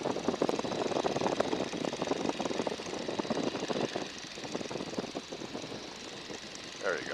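Engine of a 1942 Boeing N2S-2 Stearman biplane throttled back to reduced power in flight, a steady loud drone with propeller buzz filling the cabin, with voices talking over it.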